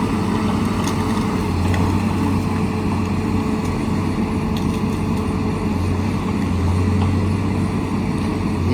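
Tigercat 620 rubber-tired forestry machine running during first thinning work, a steady low diesel drone with a recurring deeper hum, constant and fairly close throughout with no speech.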